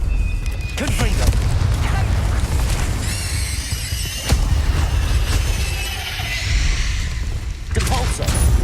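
Confringo fire-blast spells going off in Hogwarts Legacy combat: repeated booming bursts over a dense, continuous din of battle effects, with sharp impacts near the start, around four seconds and toward the end, and voices mixed in.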